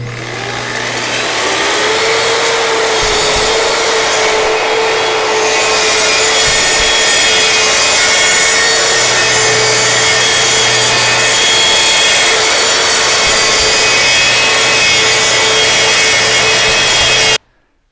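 A track saw rips a board clamped to its guide track, a loud, continuous whining cut that runs steadily for most of the stretch before stopping abruptly at the end.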